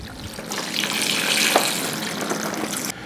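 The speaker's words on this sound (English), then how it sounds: "the bottom of this lug is filled with ice, and I'm going to pour in some water to cool these babies down" Water poured over ice in a lug cooler while smoking Al Pastor snack sticks gives a steady splashing, rushing pour that runs for about two and a half seconds and then stops abruptly, close and moderately loud.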